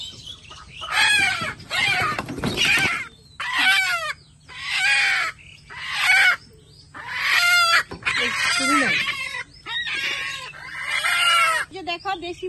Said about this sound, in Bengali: দেখো দেশি মুরগগুলো ধরে নিলাম, একটা মুরগি কিন্তু পলাই গেছে